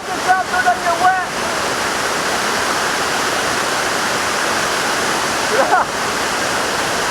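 A waterfall roars up close as a loud, unbroken wash of rushing water that fills everything, with a brief voice and a few faint handling noises near the start and end.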